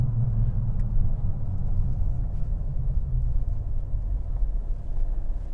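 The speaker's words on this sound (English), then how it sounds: "Yeah, I'm thinking that's a wheel bearing that's noisy." Noisy wheel bearing on a 2015 Nissan Navara 2.5 dCi pickup while driving, heard as a steady low droning rumble under road noise throughout, close and even in level with no talking.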